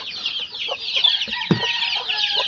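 Pet chickens cluck steadily close by, a dense run of overlapping clucks and soft calls that stays loud with no talking.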